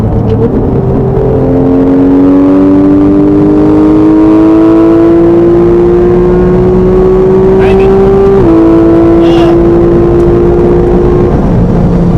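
A 2014 Porsche 911 GT3 engine with a PDK gearbox pulls hard through the gears toward 120, its pitch climbing steadily with one quick shift, loud and close inside the cabin, with voices over it.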